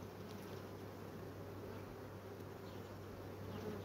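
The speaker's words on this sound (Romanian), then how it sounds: "Văd că sunt pline cu albină" Honeybees buzz softly over lifted hive frames at an apiary, a faint, even drone that holds for a few seconds with no talking.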